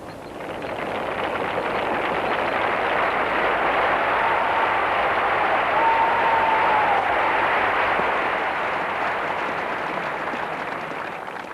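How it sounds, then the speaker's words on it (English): A cricket crowd at the Oval cheers and applauds Bradman's century: a broad, steady roar of clapping and cheering that swells in and holds loud throughout, with no speech. "the crowd is cheering Bradman for his 100"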